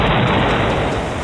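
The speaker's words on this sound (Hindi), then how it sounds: "सबसे बड़ा धमाका।" A loud, broad blast of an explosion fills the short stretch, a dense rumbling roar that holds nearly steady and fades only slightly toward the end.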